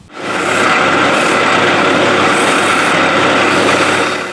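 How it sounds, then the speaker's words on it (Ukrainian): Woodworking in the carpentry workshop of a nuclear power plant, where windows and doors are made and furniture is repaired, gives a loud, steady, broadband rasping and rubbing noise that runs continuously throughout with no talk. "Є у підрозділі і своя столярня, де для потреб атомної електростанції виготовляють вікна та двері, роблять ремонт меблів"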